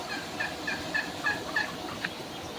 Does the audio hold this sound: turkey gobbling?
yes